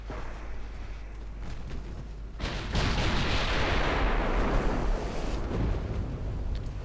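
Warship naval guns fire in the naval combat game Ultimate Admiral Dreadnoughts against French cruisers, with a rumbling backdrop, then a heavy booming salvo that swells into a sustained roaring barrage, loud and alone.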